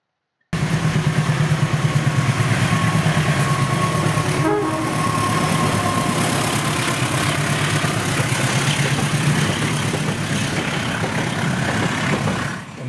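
A diesel locomotive engine idles loudly close by, a steady rhythmic throbbing rumble that continues without pause.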